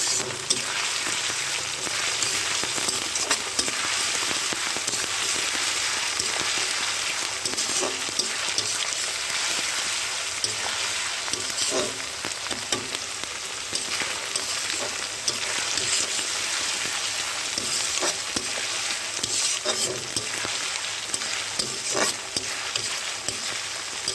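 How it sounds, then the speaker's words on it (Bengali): A spice paste of ground garlic and ginger, with onion, fries for a meat dish, giving a continuous soft sizzle with occasional stirring scrapes that runs steadily and close for the whole stretch, with no voice over it. "এই যে মশলাটা আমার ভাজা হয়ে গেছে, ভাজা ছেন বেরোচ্ছে, আদার ছেন"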